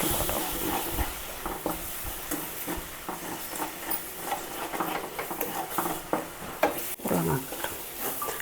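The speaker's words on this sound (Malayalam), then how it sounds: "രണ്ട് മുട്ട നമുക്ക് ഇതിലേക്ക് ചേർത്തുണ്ട് അതൊന്ന് ഇതിലേക്ക് ചിക്കി പൊരിച്ചെടുക്കാം" Two eggs are scrambled and fried in a pan with spice masala, a continuous close sizzle broken by frequent scraping and stirring strokes, with no voices.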